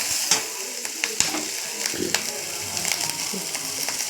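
Cumin seeds sizzle and crackle in a frying pan, a steady hiss broken by small pops and clicks of stirring, close and moderately loud.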